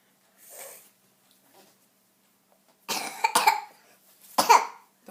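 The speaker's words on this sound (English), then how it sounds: "Don't cough on me, please." A child coughs indoors: a few short, sharp, close coughs in two clusters, preceded by a soft breathy sound, with quiet pauses between.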